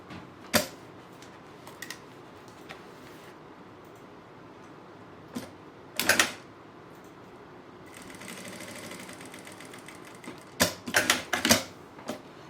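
A sewing machine stitching the right sides of fabric together for a handmade French-braid bag, with short mechanical bursts separated by quiet pauses and a steadier whirring run near the end.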